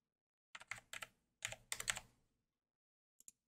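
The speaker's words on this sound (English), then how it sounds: "we can type in the IP address" Typing on a computer keyboard while entering an IP address: two quick bursts of close, crisp keystrokes, then a pause and two final isolated taps.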